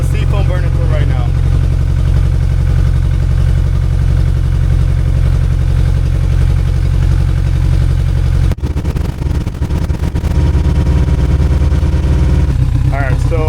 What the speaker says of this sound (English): I got it to start up, so let the carbs clean out a little bit.